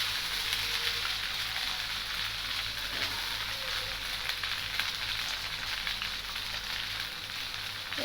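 Steady loud sizzling of rice vermicelli (bihun) going into a hot pan for vegetarian bihun goreng, a dense continuous frying hiss with no talking.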